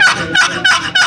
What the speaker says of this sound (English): Now, once you get that gobble